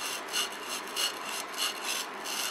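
Sashimi knife blade drawn across a whetstone in steady, rhythmic strokes, about four smooth scraping passes, each a soft rasping swell, close and alone with no talk.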